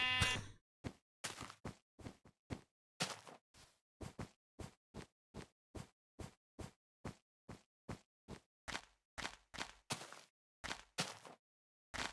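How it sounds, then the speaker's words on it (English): Sheep bleating in the video game Minecraft, a steady run of many short, sharp, evenly spaced calls that are fairly loud and close, with no speech. "Two brown sheep. Now that's rare."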